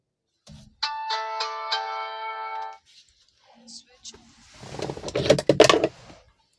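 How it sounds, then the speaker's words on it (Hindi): A phone chimes with a notification from a vehicle GPS tracking app, a short run of bright ringing tones followed by a pause, then someone talking nearby. "तो देखिए ऊपर नोटिफिकेशन आ गया है"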